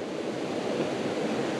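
Waves wash steadily along the Lake Superior shore in the Porcupine Mountains, a continuous broad rushing hiss with gentle swells and a touch of wind on the microphone, with no voices.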